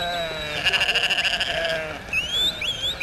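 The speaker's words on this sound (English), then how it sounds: "Hardy Corriedale sheep are now the inheritors of the plains." Hardy Corriedale sheep bleat on open windswept plains, a wavering bleat followed by a second higher call, moderately close over a steady breezy background.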